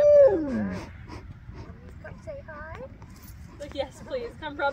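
Dogs on a farm give a loud whimpering howl up close, then a run of softer yips and whines, with rustling and handling noises underneath and a person speaking.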